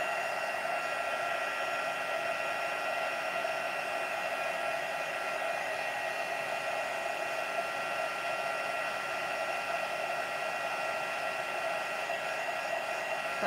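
Heat embossing tool blowing steadily over stamped card stock, a continuous close whooshing whine that holds at an even loudness throughout with no talking.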